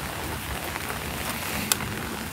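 Heavy rain pours steadily on a large domed aviary, a dense, hissing wash of drops, with one sharp splash standing out near the end.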